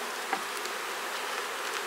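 Honeybees buzz in a dense, steady swarm right after a colony frame with grafted queen cells is shaken, a close continuous drone without talking.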